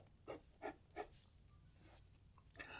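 A fountain pen nib draws strokes across paper: three evenly spaced scratchy swipes, then a couple of slower, softer ones and a final quick scribble, quiet and close with no voices.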